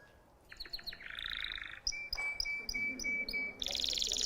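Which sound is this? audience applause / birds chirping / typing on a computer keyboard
birds chirping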